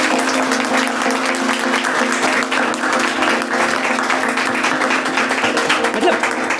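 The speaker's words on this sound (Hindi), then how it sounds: "चाहूंगा एक बार जोरदार ताली हो जाए" Loud, sustained applause from a crowd at a rangoli-making competition held at a cancer hospital in Indore, continuous clapping with a faint steady tone running underneath.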